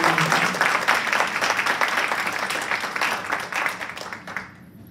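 An audience at an arts and poetry event claps in a burst of applause that is loud at first, thins and fades toward the end, leaving near quiet.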